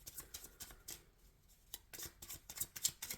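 Tarot cards are shuffled by hand at close range: quiet, irregular papery flicks and riffles with a brief lull in the middle, then quicker, crisper snaps toward the end, and no talking.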